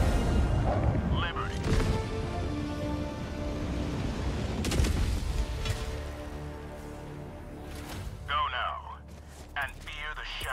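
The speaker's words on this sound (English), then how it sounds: "Cool, guys, don't look at explosions." Explosions in the video game Helldivers 2 during a fight against Automatons: deep rumbling booms and crackling blasts, some heavy and some more distant, roll through the scene while people talk over them.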